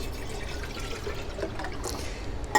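Water poured from a recycled vinegar jug into a kettle at a tent campsite, a steady continuous splashing trickle at moderate level with a small clunk near the end.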